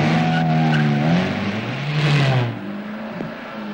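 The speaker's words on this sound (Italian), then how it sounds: "Frenata sicura." A car on CEAT tyres brakes hard, its engine note falling in pitch as tyres scrub and squeal briefly, loud and close, before the sound drops to a quieter idle-like hum.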